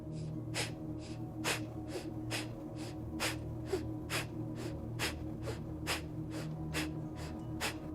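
Rapid pumping breaths during a kriya yoga exercise, the belly pushing air through the nose in a steady rhythm of sharp, close huffs at roughly one to two per second, quiet and unaccompanied by talk.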